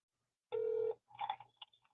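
A telephone call to the police begins with a single steady tone about half a second long, followed by short bursts of electronic phone tones, fairly quiet and with no talk over them.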